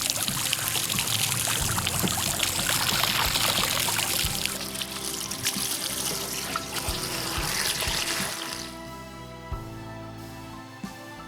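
Fresh water from a hose or tap pours and splashes over a Waydoo Flyer ONE electric hydrofoil board to rinse off salt, a loud steady gush that drops to a thinner trickle near the end.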